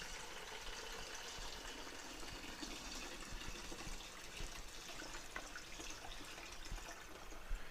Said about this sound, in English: I've got cold water in here. All we're going to do is fill the tank.